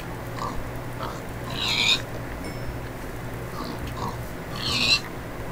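Pigs in Minecraft grunting and oinking: two short squealing bursts a few seconds apart, with softer grunts between, over a quiet low background hum.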